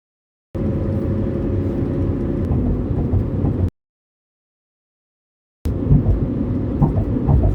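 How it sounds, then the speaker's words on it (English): Loud, dense rain drumming steadily on a camper van roof in two bursts separated by a few seconds of silence, heavy and close, at the New Hampshire–Maine border. "It is raining now."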